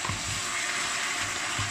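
Sweet cured pork tocino in a pan with half a cup of water, giving a steady close bubbling sizzle with a constant hiss and a few low gurgles, no voices.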